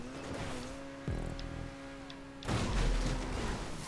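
Taipan car driving in the video game GTA 5, a smooth engine drone that cuts off briefly, then returns louder with a rougher surge.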